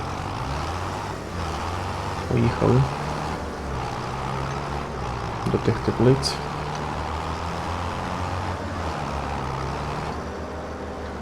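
A tractor drives in the video game Farming Simulator 25, its engine a steady low drone throughout, with someone talking over it and a few brief clunks.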